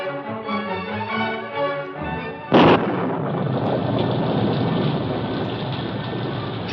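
Radio drama storm effect: a loud sharp thunder crack bursts out after a stretch of music, then rolls into a dense, sustained rumble and hiss like heavy rain that carries on steadily to the end.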